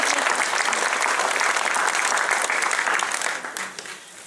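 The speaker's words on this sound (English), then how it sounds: "Give a round of applause to our models." Audience applause at a concert, many hands clapping loudly and steadily, then thinning and fading out toward the end; no speech over it.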